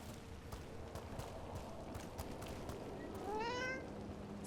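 A cat in Dragon Age: The Veilguard lets out a single rising meow near the end, heard over a steady game ambience with faint clicking, tapping footsteps.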